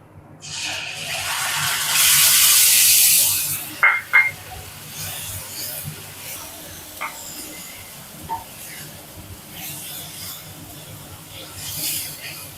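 Ginger garlic paste dropped into a pan of frying onions while cooking prawn thokku, a loud burst of hissing sizzle that fades into a quieter crackle, with a few scraping clinks after it.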